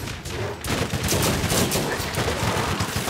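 Rapid gunfire from Borderlands pops in quick, dense bursts at close range. The shots are loud and almost continuous for a few seconds, with no talk over them.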